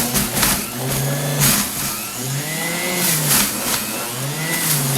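Breville Juice Fountain Elite juicer motor working through a final handful of carrots, a loud, steady whine that sags and recovers in pitch as the motor lugs under load, with bursts of grinding throughout.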